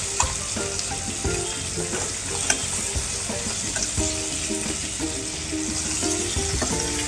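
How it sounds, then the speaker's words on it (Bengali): Hilsa fish and green chili frying together in oil in a pan, a close, continuous crackling sizzle with frequent small pops and occasional clinks of a spatula, no voices. "মাছটাও ভাজা হচ্ছে, আর এই যে লঙ্কাটা দিয়েছি লঙ্কাটাও একসাথেই ভাজা হচ্ছে।"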